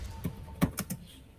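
A few quick taps on a computer keyboard, four or five soft clicks in an uneven burst, close and quiet.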